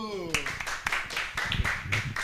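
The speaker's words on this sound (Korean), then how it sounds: "박수" A church congregation claps at a Friday evening service in a quick, steady rhythm of sharp beats, fairly close, with voices and a sung or spoken tone mixed underneath.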